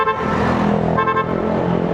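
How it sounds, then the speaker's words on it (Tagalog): A vehicle horn honks repeatedly and loudly over a running engine. The toots are closely spaced and sound near in an outdoor road setting. "Busina ako ng busina."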